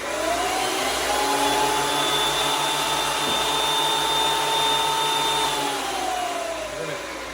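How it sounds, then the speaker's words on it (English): A wooden 4x4 fed through a jointer: a loud, steady machine whine with a cutting roar that holds for several seconds, then the pitch drops as the board clears the cutterhead. "slight pass through the joiner to get rid of where I glued up"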